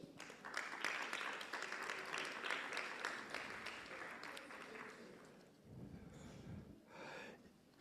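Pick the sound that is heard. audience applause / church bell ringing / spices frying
audience applause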